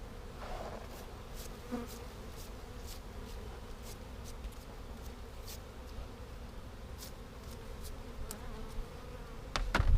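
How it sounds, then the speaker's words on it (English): Honey bees buzz steadily and close while being brushed off hive frames with a bee brush, a dense continuous hum with scattered sharper buzzes from individual bees passing near, ending with a louder rustle. "got our bee brush here. Get the last of the remaining bees off"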